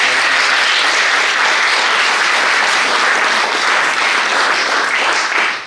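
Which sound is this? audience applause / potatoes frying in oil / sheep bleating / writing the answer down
audience applause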